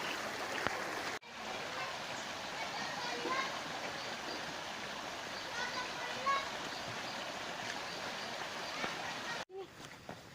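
A river stream on Mount Munara, muddied after heavy rain, gives a steady, faint rushing wash of flowing water that runs for about eight seconds between short breaks, with voices faint in the background.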